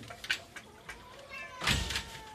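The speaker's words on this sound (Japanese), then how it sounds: "はい、フリーちゃん、フリーの猫たち" A free-roaming rescued cat meows a few times at night, the short cries rising over faint background noise, with a louder burst near the end.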